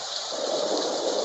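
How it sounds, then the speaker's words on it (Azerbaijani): Rain sound from a children's toy sound machine, a soft, steady, close hiss with a faint watery texture, continuous and quiet. "Bu da yağış səsidir."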